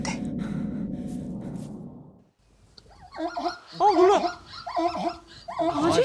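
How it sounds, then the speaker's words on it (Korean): A dog whimpers and yips in a series of high, wavering cries that begin after a stretch of low, muffled rumbling, with the whines rising and falling in quick bursts, fairly close and clear. "강아지. 강아지. 소리인가 새소리야? 이런 소리가 들리는 거야."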